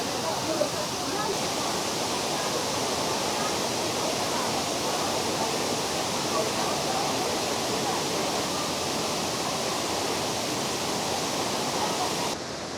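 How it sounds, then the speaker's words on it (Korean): Continuous heavy roar of Huangguoshu Waterfall in Guizhou, China, a thick wall of rushing water that stays loud and unchanging before dropping slightly at the very end. "자, 대단한 폭포입니다."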